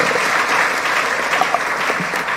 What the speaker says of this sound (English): A round of applause for our entire panel.